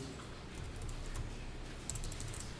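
Typing on a computer keyboard during accounting data entry, a steady run of light, close key clicks with a few sharper taps.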